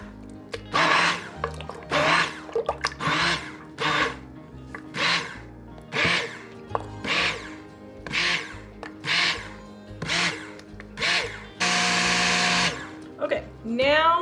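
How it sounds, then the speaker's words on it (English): A stick blender whirs through goat milk cold process soap in about a dozen short bursts, each lasting under a second with pauses between, close by, ending in one longer steady run. "I'm going to go ahead and zap this with my stick blender just to get it broken up a little bit more"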